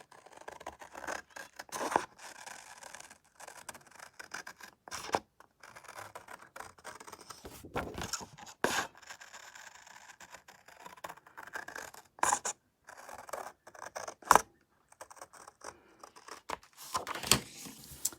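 Scissors trimming excess metal from a leftover metal chocolate tin, a long run of irregular snips, scratches and clicks with pauses between cuts, close and quiet with no talking.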